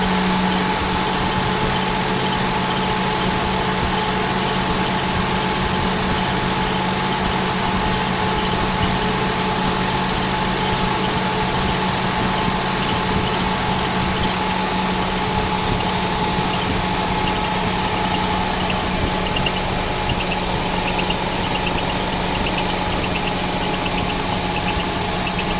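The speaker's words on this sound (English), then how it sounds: "Give a little bit of rev here on the throttle body, just to get all the stuff circulating in there." Car engine running steadily at a constant idle-like pitch, near and loud, with no talk and no clear rise in revs.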